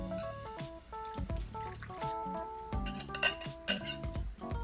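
Wet ingredients being stirred into dry ingredients in a mixing bowl for puto cheese batter, with repeated close clinks and scrapes of a utensil against the bowl over a background of steady musical tones.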